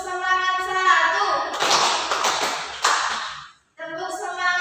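A classroom of pupils claps the 'tepuk semangat' rhythm, with bursts of dense hand clapping alternating with children chanting in unison, close and loud, followed by a brief pause and more chanting.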